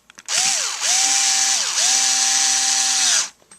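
A Ryobi HP44L Quickturn cordless lithium-ion screwdriver motor whirs up loud and close in three bursts, with a steady whine and short spin-downs between them, then stops.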